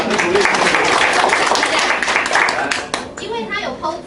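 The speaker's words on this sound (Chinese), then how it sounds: "来，掌声鼓励" An indoor audience at a business seminar claps together, dense close applause lasting a few seconds before thinning out, with voices audible over it near the end.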